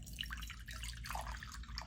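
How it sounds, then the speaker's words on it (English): Water drips and splashes into a bowl in a steady, close stream of small droplet impacts, continuous and fairly quiet throughout with no talking. "we're going to add the water to our bowl"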